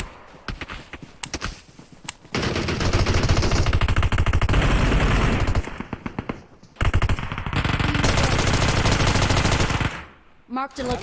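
Uzi fired in a shooter game, long loud bursts of rapid automatic gunfire close by, broken by brief pauses and scattered single shots, with a player's voice talking over it.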